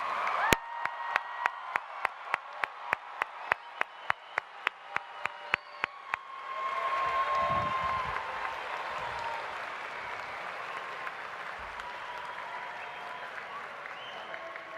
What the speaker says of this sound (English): Let's give one more round of applause for the class of